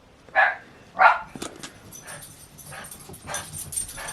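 A small dog gives two sharp, high yips close by, followed by softer rustling and faint whimpering sounds.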